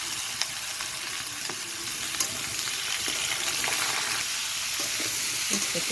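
Mixed vegetables fry in a pan over panch phoron and dried red chillies, giving a loud steady sizzle with occasional stirring clicks and pops.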